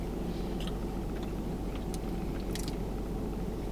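Close, steady biting and chewing of a Hardee's/Carl's Jr. chicken sandwich, with a few crisp crunchy bites over low wet chewing and no talking.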